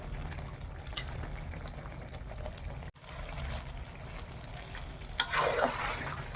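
Chicken in a masala paste bubbles on a low flame in a kadai, a steady thick simmering hiss with a brief break partway through and a louder, busier stretch near the end.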